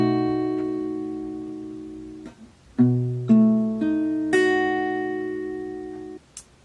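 A guitar chord strummed with the 5th and 1st strings left out, ringing out and restruck several times in slow succession, alone with no talk.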